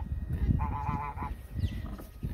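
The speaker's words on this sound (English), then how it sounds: "I think there's a conversation going on between the goose and the pig." A goose on a small farm honks in a short nasal burst of several pulses, close and clear, amid rustling and other low farmyard animal noises.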